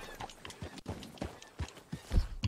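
Horse hooves in Red Dead Redemption 2 thud out an irregular clip-clop gait at moderate volume, a few steps landing close and heavier toward the end.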